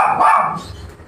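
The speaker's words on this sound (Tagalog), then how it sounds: "Ay, aso." A single short dog bark rings out close and loud, followed by a fading tail of room noise.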